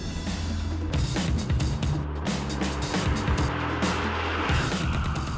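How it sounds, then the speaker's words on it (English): A 2000 Mustang Cobra R track car rumbles through its side exhaust, a loud, steady engine drone close by with surging revs, and no speech over it. "the rumble of the side exhaust"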